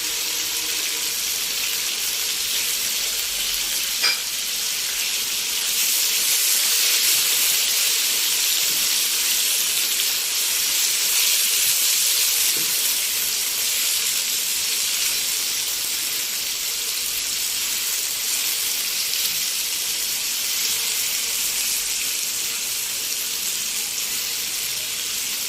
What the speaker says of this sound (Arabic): شوحناها تشويحه بسيطه خالص مع التوابل والثوم